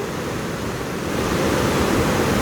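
Rushing water at the Mahananda barrage in Fulbari after rain, a loud, steady broadband roar of churning flow, continuous and close with no voices.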